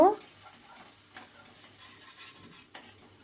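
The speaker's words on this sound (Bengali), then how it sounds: "খুব ভালো করে মশলাটা কষিয়ে নেব" Ginger paste and spices are stirred and sautéed in a pan, with a soft sizzle underneath and a few sharper scrapes of the spoon, close but fairly quiet.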